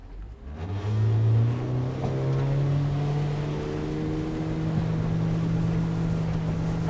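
A Haines Hunter 520R boat powered by a Yamaha F90 outboard runs on the water. The motor's drone climbs in pitch as it speeds up, then holds a steady, loud roar with rushing water and wind.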